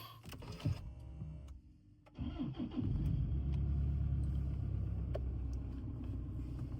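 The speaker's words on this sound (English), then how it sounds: "So you got a nice little Landcruiser startup." A 2014 Toyota Landcruiser Prado VX is started by push button: brief clicks and whirs first, then the engine cranks and catches around two seconds in, settling into a steady, close idle rumble with no talk.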